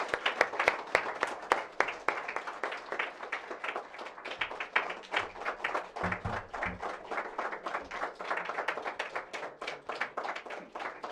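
An audience at an International Women's Day event applauds the Lieutenant Governor of Maryland with dense, sustained clapping that carries steadily through the whole stretch, and a few faint voices sound beneath it.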